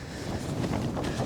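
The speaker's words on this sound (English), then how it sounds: "I have to say it is quite windy" Cold wind gusts across a snowy mountain campsite, making a brief, rough rush of buffeting noise against the microphone.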